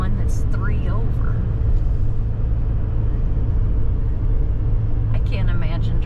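Steady low road rumble from a car inching along in slow, congested highway traffic, a continuous engine and tire drone with occasional brief higher noises from nearby vehicles, heard under people talking.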